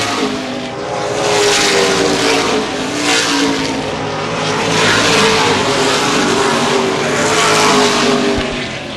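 Late model sportsman race cars thunder around the Baer Field Speedway oval in a 50-lap Gold Cup event, loud engines roaring continuously, swelling and fading as the pack passes.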